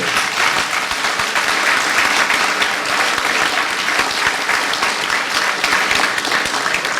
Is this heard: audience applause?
yes